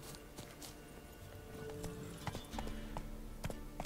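Horse in The Witcher 3 video game, steady clip-clop of hooves with a whinny, moderately close over a low game ambience, no talking.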